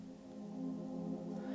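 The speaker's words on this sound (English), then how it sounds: "That soft pad sounds like this," Soft synth pad from a reggaeton-style beat in Studio One, a quiet, steady sustained chord tone that holds evenly for a moment and stops, with no other instruments or voices.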